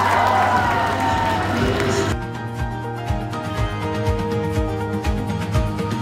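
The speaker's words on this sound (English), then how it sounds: "let us give her a big round of applause" Loud, steady applause and cheering from a large crowd at the Miss Khiamniungan 2023 beauty pageant in Noklak, Nagaland. Dense clapping carries a rhythmic pulsing beat beneath it and drops slightly in level partway through.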